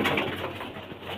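Chennai-breed pigeons coo in a low, steady murmur, close by and continuous, with no voices over them.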